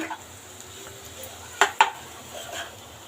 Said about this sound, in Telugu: ఇప్పుడు ఈ రైస్ ఇవంతా బాగా కలిపేసుకుందాం మనం